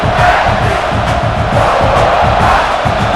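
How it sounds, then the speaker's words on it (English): A loud, roaring stadium crowd cheers and shouts continuously in College Football 26, Oklahoma Sooners versus South Carolina Gamecocks, a dense wall of voices with no pauses. "this crowd is fired up. Listen to this noise here."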